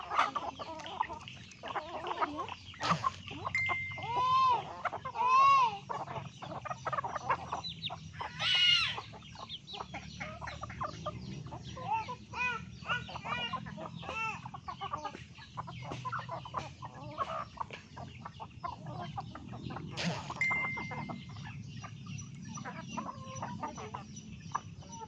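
Chickens cluck repeatedly nearby, with occasional louder squawks and crowing-like calls over a steady outdoor background.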